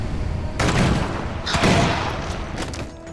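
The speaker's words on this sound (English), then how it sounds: "we're taking our second shot without moving" Two sharp blasts a second apart, each with a decaying tail, as a gun fires at a Genestealer in the Space Hulk video game, followed by fainter clicks and thumps.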